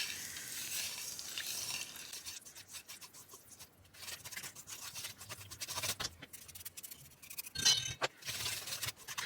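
Cornbread batter with cream style corn and a broken egg yolk being stirred in a bowl, a steady wet scraping and rubbing with occasional clinks of the utensil against the side, close and continuous with no talking.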